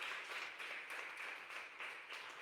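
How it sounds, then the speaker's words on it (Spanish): A church congregation claps its hands as an offering to God, producing a steady, fairly distant wash of applause with soft rhythmic pulses and no voices. "Dale una ofrenda de palmas al Rey"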